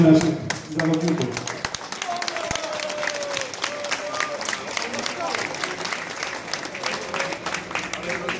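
An audience claps to welcome Polish athletes home at the airport from the Rio 2016 Paralympic Games. The applause is steady, dense and sustained, with a crowd murmur and a loudspeaker voice over it.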